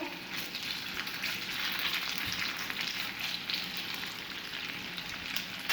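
Chicken fries in a pan with a steady, soft, continuous sizzle, a faint rain-like crackle that holds evenly throughout, with no voices.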